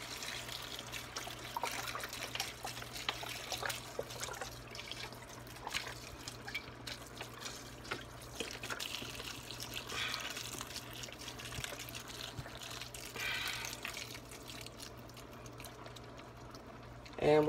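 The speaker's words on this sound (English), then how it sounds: "we're going to go ahead and just pour that in there" Broth pours into a pot for cabbage soup in a steady, continuous liquid trickle and splash. It runs for a long stretch at moderate level.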